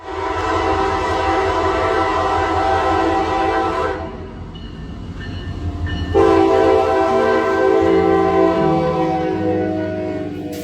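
A loaded CSX military freight train rumbles past in downtown Atlanta with steady rolling noise, and a horn sounds in strong blasts that pause and then return over the clatter.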